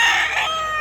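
A seven-month-old rooster crows once, a short, close, loud call that fades out at the end.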